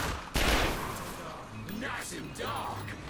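Gunfire in The Darkness 2 video game: a loud burst of shots erupts early, then lingers as a rumbling fusillade beneath someone talking.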